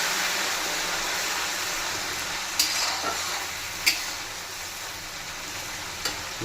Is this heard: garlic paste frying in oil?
yes